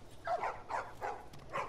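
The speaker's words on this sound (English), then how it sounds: "Hey, doggos." Dogs in the video game The Last of Us Remastered give four short, fairly faint barks in an uneven rhythm, with no one speaking.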